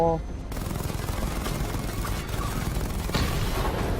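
Rapid gunfire from the Batman: Arkham Knight video game, a dense continuous burst of shots and blasts filling the whole stretch with loud, steady battle noise and no clear voices.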